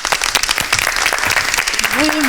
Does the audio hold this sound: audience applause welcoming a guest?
yes